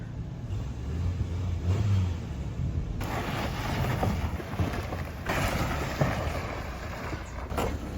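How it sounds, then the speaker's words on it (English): A 1999 Toyota Corolla's engine revs during handbrake turns, a rough, fluctuating engine roar heard outdoors under heavy wind buffeting on the microphone. "that is how you do handbrake turns in this 1999 Toyota Corolla"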